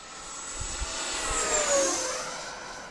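An E-Flite Viper 90mm RC jet makes a pass at about three-quarter throttle, its smooth whine swelling as it approaches and then fading as it moves away, faint and alone.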